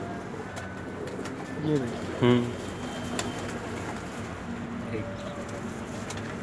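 Teddy pigeons, a paired cock and hen in a loft, cooing in a couple of soft, rolling bursts close by amid background noise, while someone speaks briefly.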